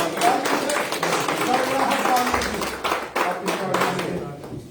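Clapping rings out at a political gathering welcoming new members into the BJP, a dense run of claps under loud crowd chatter and voices throughout.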